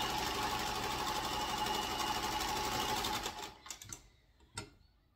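A sewing machine stitches a half-inch hem along a bedspread, running loud and steady in a fast rhythmic whir for about three seconds, then stopping with a few faint clicks and handling sounds.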